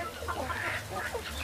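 Free-range hens cluck softly in a short, steady run of low murmuring calls, close and unbroken, with no one talking.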